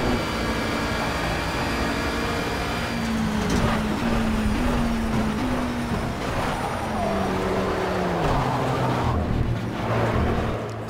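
Race car engines in the Project CARS video game while overtaking slower GT4 cars, a loud continuous engine drone with pitch stepping up and down through gear shifts, layered with other cars' engine noise.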